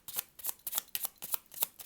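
Tarot cards shuffled by hand in rapid, rhythmic riffles of crisp papery flicks, close and fairly quiet, with no speech.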